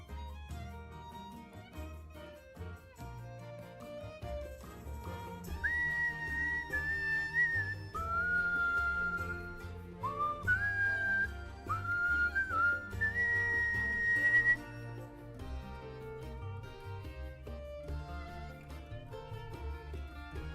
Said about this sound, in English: that's a lot of whistling without breathing.